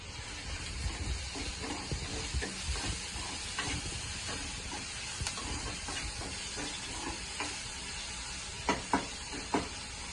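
Chopped onions are stirred with salt in a bowl, giving soft scraping and a few sharp clinks toward the end over a steady background hiss, with no voices.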